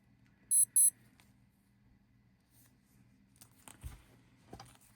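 Two short bursts of high, shrill electronic beeping from a Casio DW-1000 digital watch alarm, followed by faint handling clicks and rustles.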